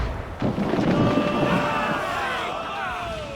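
Ship cannons boom in a naval battle in Assassin's Creed IV: Black Flag, a heavy blast followed by rolling rumble as a crew member's voice shouts commands over the sea and wind.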